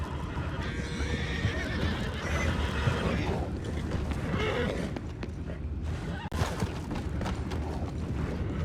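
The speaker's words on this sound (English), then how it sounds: "I have the horses under control." In the video game Red Dead Redemption 2, horses whinny loudly over steady clip-clopping hooves and creaking mechanical noises, all dense and close, with no talking.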